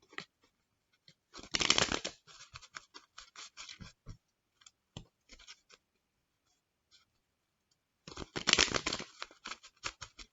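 A Moonology oracle card deck is shuffled up close, two loud bursts of riffling cards with lighter, scattered taps and slides of card handling between them and quiet gaps.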